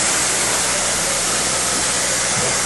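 Icynene spray foam insulation being sprayed produces a loud, steady, unbroken hiss that fills the whole stretch, close up and without talk.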